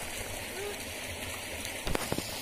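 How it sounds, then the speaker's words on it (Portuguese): Flowing stream at a fishing spot, a steady broadband wash of running water close by, with a couple of brief splashy clatters near the end. "Esse é o córrego que a gente está pescando."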